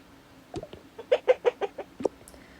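Pet chicken clucking indoors in a family house, a run of about six short, close clucks in quick rhythm, fairly loud and alone with no talk.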